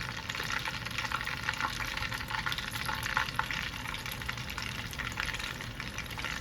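Chicken pieces deep frying in hot oil, a steady dense hiss and crackle of bubbling oil holding constant and fairly close throughout, with no voices.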